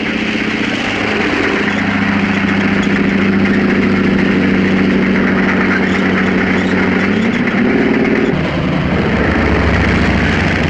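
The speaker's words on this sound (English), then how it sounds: "This is an American light tank" An American light tank engine runs with a loud, continuous low drone and a steady mechanical roar, shifting pitch briefly near the end as it moves.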